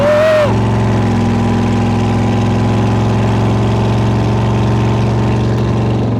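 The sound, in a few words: T Bucket hot rod engine running loud without baffles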